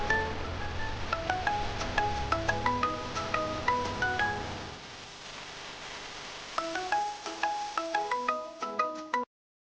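A phone ringtone plays as a bright, bouncing electronic melody of plinking tones, pausing briefly midway and then resuming before it cuts off, with no talking over it.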